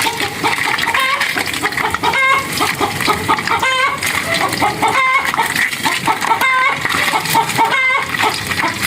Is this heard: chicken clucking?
yes